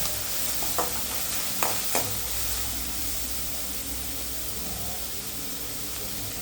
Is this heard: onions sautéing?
yes